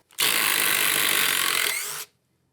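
A DeWalt DCF845 impact driver backs a screw out of wood, a loud close whirring buzz with rapid hammering chatter that holds steady for about two seconds and then cuts off abruptly.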